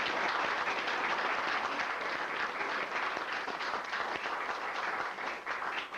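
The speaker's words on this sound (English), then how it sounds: "so if you would, give them a round of applause" Sustained, dense audience applause at a June 1999 Tri State reunion show, steady and loud throughout with no gaps, honoring the people who helped put on the event.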